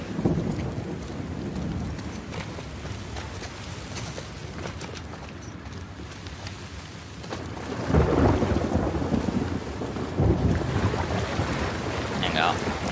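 Steady rain pours with rumbles of thunder in the video game The Last of Us Part II, a continuous dense wash that swells louder partway through, with occasional heavier crashes near the end.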